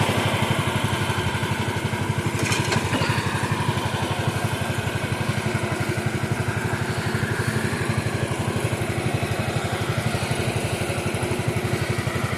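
A Bolens garden tractor engine runs steadily while the tractor is driven off a trailer after a tractor show, giving a loud, close, even chugging idle with a rapid regular beat throughout.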